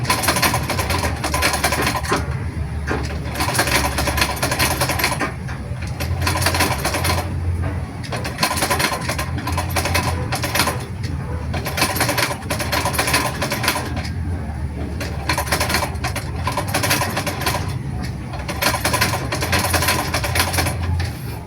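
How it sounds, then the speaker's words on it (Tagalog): A treadle sewing machine, a foot-powered makina de padyak, runs in a steady, rapid mechanical clatter that repeats in even bursts, close and fairly loud, with no voices. "Yung kaya mong paikutin ang makina sa pananahi na hindi ka nakatingin sa balanswel"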